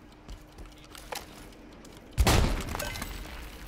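A grenade bursts in a first-person video game shooter, a sudden loud blast midway that rings out and fades, following a stretch of quieter clicks and scattered game sounds.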